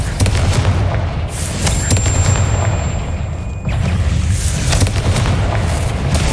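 A Confringo fire spell blast in the Hogwarts Legacy video game, a sustained dense rumbling boom with crackling bursts and a thin whistling tone midway, loud and continuous throughout.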